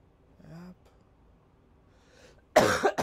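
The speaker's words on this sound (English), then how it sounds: "Ah, stupid cough." A video game character in Life is Strange gives a soft throaty sound early, then a loud, close cough burst near the end, with quiet gaps between.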